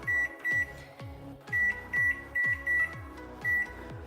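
Short electronic timer beeps sound close by as a timer is set for baking bread, a series of roughly nine quick tones in an uneven rhythm over low clicks.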